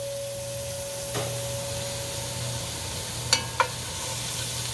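Bolognese sauce sizzles steadily in a pan while a flat spoon stirs it, a constant close frying hiss with a low hum and a couple of brief scraping clicks.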